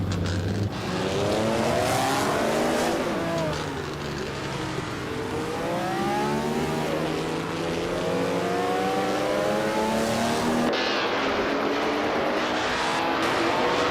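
Several race cars in a video game race scream past at full throttle, engines rising and falling in pitch as they overlap, loud and continuous throughout with no voices.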